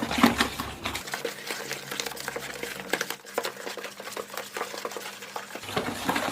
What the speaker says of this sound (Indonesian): Kita aduk hingga rata, aduk-aduk sampai homogen ya teman-teman, sampai rata.